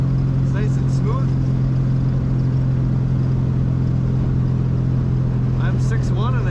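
Inside a 1972 Volkswagen Beetle cruising at 55 mph, a loud, steady low engine drone and road rumble fill the cabin without a break, with faint higher noises near the end.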